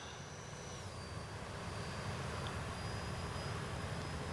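Freewing F-22 RC jet flying at half throttle, a steady broadband whoosh of its ducted fan running continuously at moderate distance, with a faint thin whine drifting above the roar.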